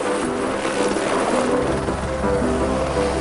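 A helicopter's engine and rotors keep up a steady, loud drone with a low throbbing hum, holding constant throughout with no voices.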